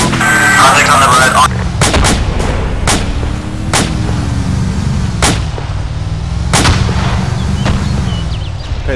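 Repeated gunshots crack out in a military shooter set in Takistan, single loud reports spaced irregularly over a steady low engine-like rumble, with radio-style squad voices faintly underneath.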